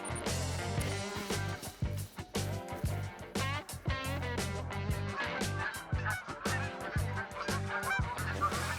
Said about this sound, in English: Knowing that geese are about 30 weapon score apiece, I grabbed the Anderson 22 pistol and headed to my goose blind for some points.